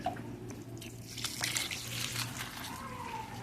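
Water drains and trickles through gritty bonsai soil in a container for a flowering quince set over rock, a steady close dribble and patter lasting a few seconds with no voices.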